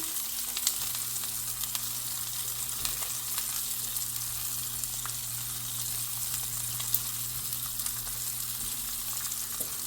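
A rack of lamb fries with a continuous, even sizzle and crackle while marinade goes on, close and steady with occasional small pops and no talking.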